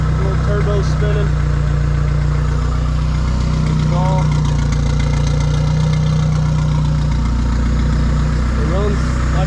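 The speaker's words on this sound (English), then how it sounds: "here it is. Little turbo spinning." A turbocharged Ford Festiva engine running loud and steady close by, with a deep constant drone, whistling turbo spin, and someone talking over it.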